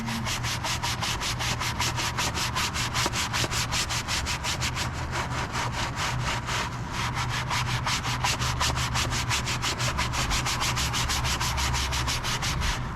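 A brush scrubbing a rubber mat coated with Adams Rubber Cleaner, a steady loud rasping scrub with rapid back-and-forth strokes that continues without pause, close up and with no talking.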